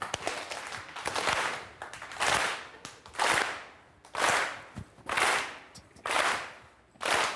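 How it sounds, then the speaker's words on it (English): An audience on a daytime talk show claps along in unison as a singer prepares to perform, with steady rhythmic bursts of clapping roughly once per second, fairly loud and close. "Everybody clap for me."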